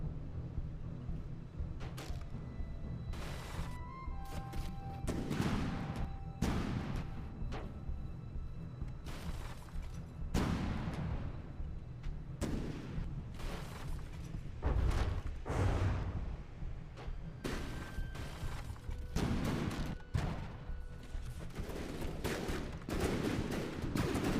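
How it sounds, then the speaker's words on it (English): Warship guns fire in a naval combat video game, a string of loud booming shots at irregular intervals over a continuous low rumble, some volleys clustered close together. "Front gun is firing."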